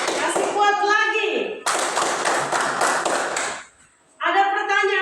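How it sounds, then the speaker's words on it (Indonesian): A classroom group of children claps together in a dense burst lasting about two seconds, with children's voices talking before and after it. "tepuk tangan untuk kelompok 2"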